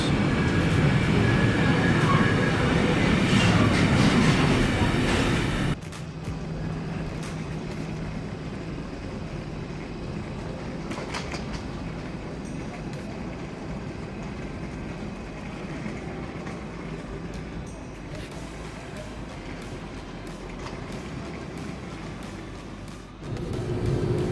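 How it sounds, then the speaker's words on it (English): Loud rumbling of the Gotthard Panorama Express train at first, then a quieter steady hum of rail cars idling inside Arth-Goldau station, with a brief surge near the end. "our Gotthard Panorama Express train being set up here in the station of Arth-Goldau"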